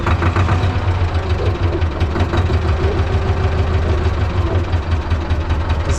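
A T-16MG tractor engine runs steadily and loudly at full throttle, a continuous low rumbling drone with a rhythmic knocking pulse that holds throughout, close and alone without talk.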